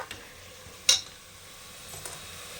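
Vegetable biryani masala frying on high flame in a pan sizzles softly while a spoon stirs it, with one sharp scrape and a couple of faint clinks over a quiet background.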